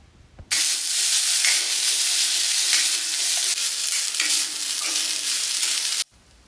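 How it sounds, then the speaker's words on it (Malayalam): Loud, continuous sizzling and crackling of grated coconut, shallots and curry leaves roasting in a hot pan, with occasional stirring scrapes, starting and stopping abruptly. "ഇതാ തേങ്ങ ചിരവിയത്, ചെറിയ ഉള്ളി, പിന്നെ കറിവേപ്പില. അത് നമുക്ക് ഇനി വറുത്തെടുക്കാനുള്ളതാണ്."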